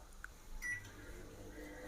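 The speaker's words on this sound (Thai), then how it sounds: "เข้าไปในไมโครเวฟไมโครเวฟแล้วครับ" A microwave oven runs while heating a hamburger, its low steady hum underneath a couple of faint beeps and clicks, quiet and close.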